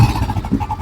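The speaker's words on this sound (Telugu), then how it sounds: "మీకు ఇంజిన్ కూడా ఎలా ఉందని చెప్పేసి ఒకసారి స్టార్ట్ చేసి చూపిస్తాను చూడండి." A Royal Enfield motorcycle engine idles nearby with a steady, rhythmic low thumping, heard alone and fairly loud for a brief moment.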